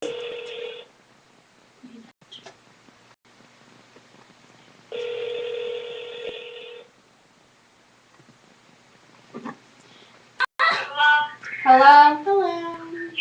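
A phone call rings out: a steady electronic ring tone sounds twice with a pause between, followed by brief clicks, and then a voice answers near the end.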